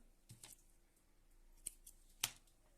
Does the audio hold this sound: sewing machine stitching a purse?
no